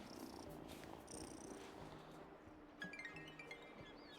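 A cat purring close by in a quiet room, a faint, steady rhythmic rumble with a few light clinks in the background.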